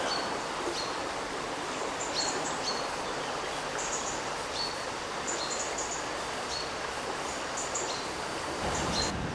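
Birds sing beside a woodland stream near Eymoutiers, France, with repeated high chirps and short trills scattered throughout. A constant rushing of water runs underneath, and no one speaks.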